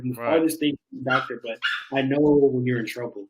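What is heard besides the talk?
small dog barking excitedly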